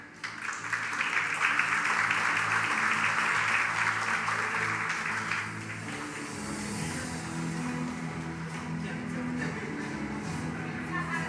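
Applause at a university awards ceremony, a full hall clapping loudly for several seconds, then thinning into scattered claps and room murmur.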